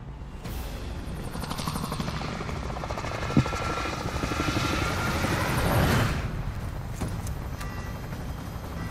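A helicopter in the video game Call of Duty: Modern Warfare thumps steadily and close, its rapid rotor chop swelling and easing across the stretch as other game sounds flicker faintly underneath.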